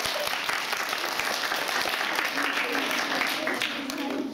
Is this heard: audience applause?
yes